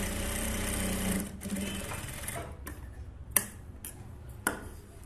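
A sewing machine stitches a hook strip along the edge of a blouse. It makes a steady, close mechanical whir for about two seconds, then stops, leaving a few sharp clicks and ticks.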